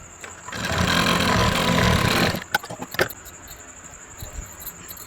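An electric sewing machine stitches a blouse seam in one continuous two-second run, loud and close, then stops, followed by a few light clicks and handling taps of fabric and parts.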